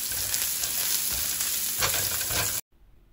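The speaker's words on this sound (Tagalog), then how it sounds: "At dahil mainit na yung mantika, igisa na natin itong sibuyas" Onion sautéing in hot oil in a pan, a loud close sizzle with stirring scrapes that holds steady for over two seconds and then cuts off abruptly into quiet.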